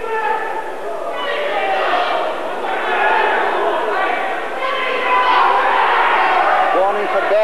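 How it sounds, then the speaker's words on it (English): A boxing crowd at a fight between Dennis Berry and Geoff McCreesh roars steadily and loudly, a dense wall of cheering and shouting that swells and holds throughout. "Crowd roaring everything that McCreesh throws and lands."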